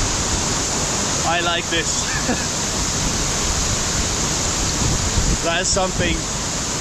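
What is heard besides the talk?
waterfalls in Samaipata, Bolivia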